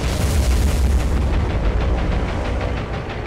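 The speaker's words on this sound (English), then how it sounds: "apparently it's quite a few bombs hit" Bombs from dive bombers exploding on ships in the naval combat game War on the Sea, a loud dense rumble of overlapping blasts with no talk.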